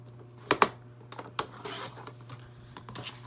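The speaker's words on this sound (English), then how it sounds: "I'm just going to line up my trimmer and just get this trimmed off." A handheld paper trimmer slices paper for a travelers notebook, giving a few sharp close clicks and scrapes in an uneven rhythm over a low steady hum, with no voices.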